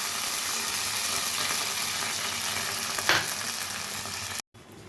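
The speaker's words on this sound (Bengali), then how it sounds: "মশলাটা একটু কষিয়ে নেব।" Ground poppy seed and ginger paste frying in a pan, a steady close sizzle with a brief stirring scrape near the end before a sudden short cut-out.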